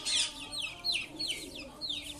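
A chicken gives several short clucks and chirpy calls close by, spaced irregularly over a faint background, with no talking.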